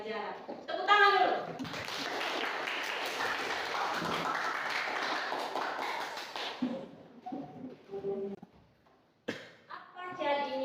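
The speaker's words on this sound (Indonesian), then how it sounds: "Tepuk tangan dulu." A classroom of children claps together in a sustained burst of hand clapping lasting several seconds, followed by a teacher speaking.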